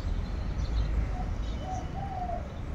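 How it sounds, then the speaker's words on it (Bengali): A dove coos faintly in the distance, a few soft calls drifting over a steady low outdoor rumble, with no voices. "ঘুঘু ডাকছে।"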